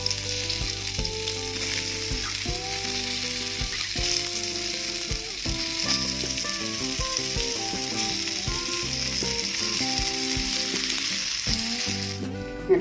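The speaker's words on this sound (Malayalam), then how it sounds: "ഇത് ഓരോന്നായിട്ടിട്ട് നമുക്ക് പൊരിച്ചെടുക്കാം." Brinjal pieces frying in coconut oil sizzle steadily in a pan, a continuous bubbling hiss with occasional clinks and scrapes, close and moderately loud, with no talking.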